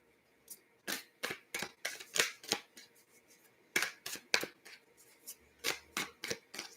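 Oracle cards being shuffled by hand during a livestream reading, making a string of quick, crisp papery riffles in uneven bursts, close and fairly quiet, with no talking over them.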